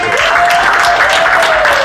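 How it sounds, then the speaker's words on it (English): An audience at a live comedy show breaks into a loud, dense round of applause, steady and close, with a few cheers over the clapping. "Give her a round of applause."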